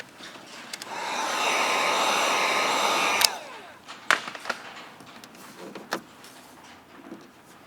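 Heat gun warming Bronco topography drift kit vinyl graphics on a bumper, a steady blowing hiss for about two seconds that cuts off, followed by scattered clicks and handling taps.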